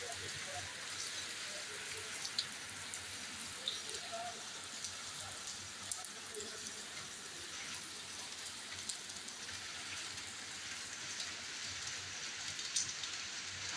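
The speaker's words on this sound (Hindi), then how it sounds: "ये बारिश हो रही है हमारे यहाँ पर।" Steady monsoon rain falls at night, continuous and close, a dense hiss of drops on surfaces with occasional louder splashes, unbroken.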